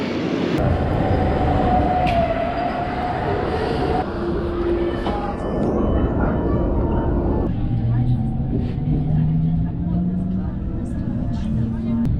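An ICE passenger train from Berlin toward Hamburg rumbles along steadily with broadband rolling noise, heard from first class, and people talk over it throughout.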